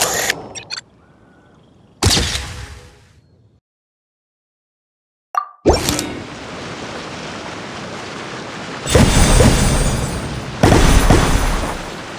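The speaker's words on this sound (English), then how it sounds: "Fireworks!" Fireworks go off in the video game Genshin Impact as a series of sharp, loud bursts separated by a brief silence, then followed by a sustained crackling, hissing roar that swells twice near the end.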